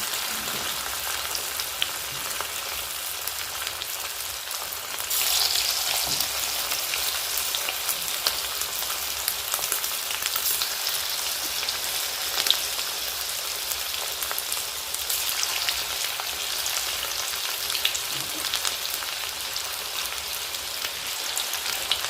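Marinated chicken fries in a pan over low heat, a dense, even crackling hiss like rain on a surface that holds steady and close for the whole stretch, with no talk.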